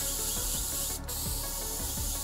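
An airbrush sprays paint over a stencil while filling in a space scene, giving a steady, close, continuous hiss that runs alone throughout.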